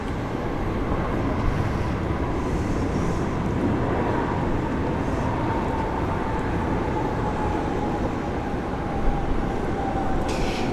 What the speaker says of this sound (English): Got a beautiful 787 Dreamliner. It's just touched down.